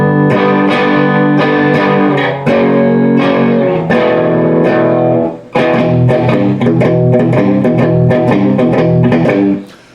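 An electric guitar with distortion and effects plays the chording lick from a song: loud, repeated strummed chord stabs in a driving rhythm, with one short break midway.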